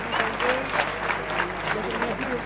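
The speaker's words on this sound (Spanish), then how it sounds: "Aplausos para Serrano, que se ha entregado pecho caliente." Applause from the crowd at a boxing event after a third-round technical knockout, a moderate patter of clapping with a voice speaking over it and a low steady hum beneath.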